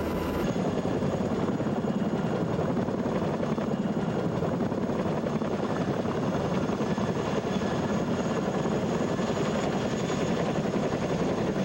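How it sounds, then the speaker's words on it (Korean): An HH-47 search-and-rescue helicopter of the Republic of Korea Air Force drones loudly and steadily, a constant close rotor and engine roar with no breaks. "육전대가 보유하고 있는 헬기의 하나인 HH-47은 수상 이착륙뿐 아니라 수상 이동도 가능하다."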